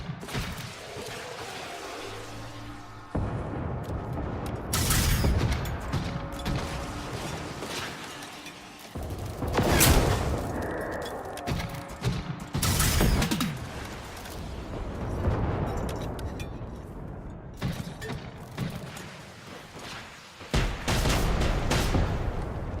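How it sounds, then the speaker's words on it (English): Mortar fire in the Generation Zero video game: repeated heavy booms and blasts burst out at irregular intervals over a rumbling background, some louder and nearer than others, continuing throughout with no speech. "Mortars."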